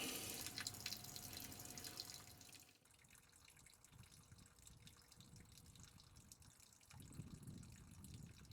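Water drains from the tank valve of a Trillium 4500 travel trailer, a faint steady trickle and gush underneath with occasional drips, fading briefly then swelling again near the end, with no speech.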